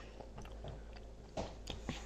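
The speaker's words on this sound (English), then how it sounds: "I'm just chewing on it right now." Close, quiet chewing of a cream-filled Easter candy, a few soft wet bites and squishes in irregular rhythm.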